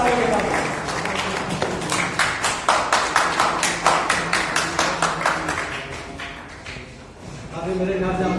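An audience at a Rashtriya Khatik Mahasabha meeting applauds to welcome guests, with loud, steady rhythmic clapping that fades toward the end while a voice carries on over it.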